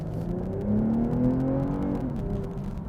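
A 2022 BMW M240i engine pulls hard under throttle in comfort mode, a steady, fairly loud rising drone heard from inside the car with no talking over it.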